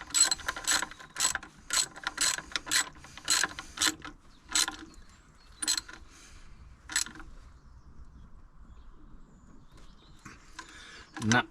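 A wrench ratchets in bursts of rapid clicks while torquing a bolt on a Nissan 300ZX twin-turbo engine, with several quick clicking runs, a quiet pause, and a few more clicks near the end.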